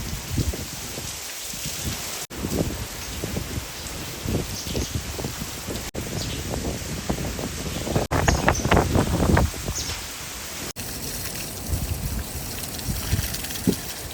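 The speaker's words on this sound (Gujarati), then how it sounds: "અતિશય ને વાવાઝોડું આવે છે અત્યારે" Strong wind roars and buffets the microphone continuously during a windstorm with heavy rain in a village, with rain and rattling gusts throughout; no voices are heard.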